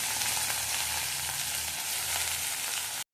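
Spinach tossed into a pan with mustard seeds and homegrown violet chillies sizzles loudly and steadily, a close, continuous frying hiss with faint stirring and no voices.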